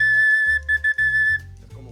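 A clear, steady whistle tone from a recorder sounds in short breaks, briefly interrupted, then fades as low hum and noise continue underneath.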